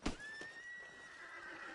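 A single horse whinny from the video game Red Dead Redemption 2 rings out, high and drawn out, fading over about a second with a soft snort at the start.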